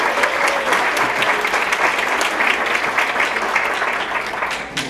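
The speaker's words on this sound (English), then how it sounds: "Give yourselves a round of applause." Attendees at a gifted education symposium give themselves a round of applause, a dense sustained clapping from a large crowd that holds steady for several seconds before easing slightly at the end.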